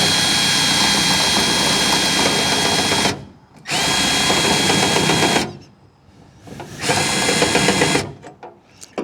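A cordless drill set to drill mode whirs loudly in three long runs driving a screw, stopping briefly between them with small clicks and handling noises.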